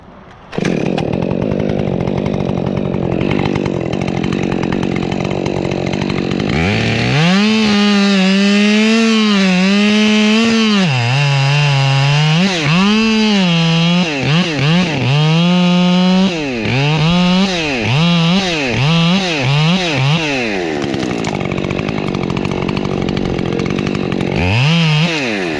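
Chainsaw working on an uprooted Monterey cypress tree, a loud continuous engine drone that rises and falls in pitch as the throttle revs and the chain bogs into the wood, close up with no talking.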